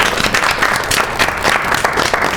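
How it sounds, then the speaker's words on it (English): An audience at a live game-show-style debate event applauds the judges with dense, loud, continuous clapping that fills the whole moment, with no talking over it. "So a round of applause again for the judges."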